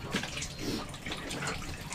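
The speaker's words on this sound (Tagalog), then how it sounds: "Maghuhugas muna tayo ng plato." Tap water running steadily while dishes are washed, a continuous splashing rush heard up close with no pauses.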